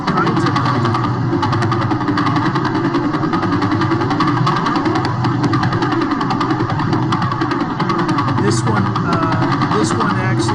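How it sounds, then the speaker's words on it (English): Radio-telescope pulsar signal rendered as sound: a rapid, steady train of clicks that blurs into a buzzing, motor-like drone over a hiss of static, constant in level throughout. "So this would basically be what a pulsar sounds like if you listen to it using a radio telescope."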